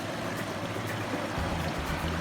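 Water in a nature stream flows around bare feet standing in it, a constant close rushing and gurgling with a low rumble underneath and no talking.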